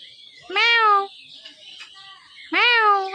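Close, loud cat meows, two clear calls about two seconds apart, each rising then falling, with quiet pauses between.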